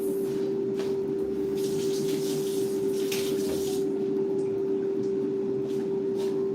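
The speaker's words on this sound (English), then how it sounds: "Just gonna take 1 green onion, give it a rinse." A green onion is rinsed under a running kitchen tap: a steady stream of water hisses and splashes for several seconds. A constant electrical hum sits under it, and no one speaks.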